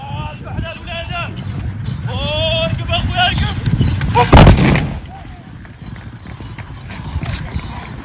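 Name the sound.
gunfire volley from riders at a horse fantasia show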